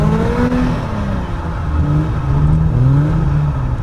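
A car drifting on ice with its engine revving up and down continuously, close and loud, the pitch rising and falling as the throttle is worked through the slide, with no talking.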